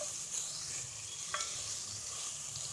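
Minced meat for green chilli keema fries in a pan, giving a soft, continuous sizzle with a couple of faint stirring scrapes and no talking.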